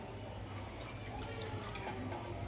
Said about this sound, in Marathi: पाणी टाकून